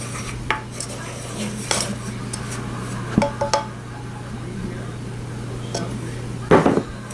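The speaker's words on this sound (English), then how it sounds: "3 1/4 cups of powdered sugar. I'm going to stir that in." Powdered sugar being stirred into browned butter frosting, heard as intermittent spoon clinks and scrapes against a bowl over a steady low hum, close and fairly quiet.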